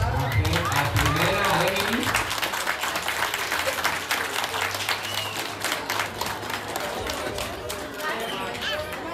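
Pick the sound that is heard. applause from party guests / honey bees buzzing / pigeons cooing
applause from party guests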